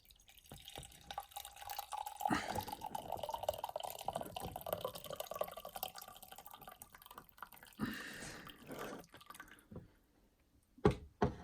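Coffee poured from a cafetiere of Anorak Sakura Blend, a steady liquid trickle and splash lasting several seconds, then a brief gap and a few sharp knocks at the end.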